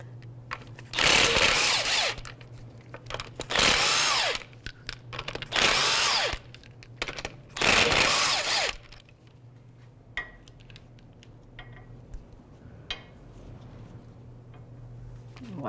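Power tool loosening wheel lug nuts with a 21mm socket on a 2010-2015 Lexus RX350, four loud bursts of buzzing rattle about two seconds apart, then quiet clinks of parts being handled.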